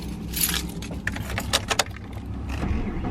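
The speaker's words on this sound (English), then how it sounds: "beautiful day to drop your keys." Car keys dropping and jangling outdoors beside a parked car, a few quick metallic clinks and rattles over steady low traffic rumble, no voices.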